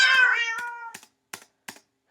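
A Minecraft cat gives one clear, drawn-out meow up close, followed by a few short, sharp clicks spaced apart.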